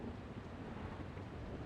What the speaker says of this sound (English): Quite the downpour.